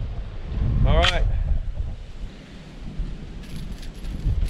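Gusty outdoor wind buffets the microphone at a shooting range with a low, rumbling roar that swells and fades, joined by a brief voice and a faint metallic tinkle.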